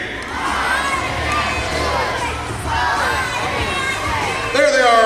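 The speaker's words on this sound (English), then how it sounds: "Let's begin the show the way we do every practice with our cheer on the count of 3" Skaters at an ice show shout a group cheer together in an arena, a loud sustained burst of excited voices and whoops that keeps going before a sharper shout at the end.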